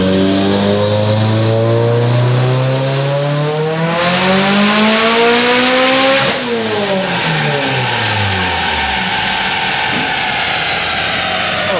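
A turbocharged Mitsubishi Evo engine is run up on a dyno at higher boost, with a loud, close rising howl that climbs steadily to a screaming peak and then drops away as the revs fall.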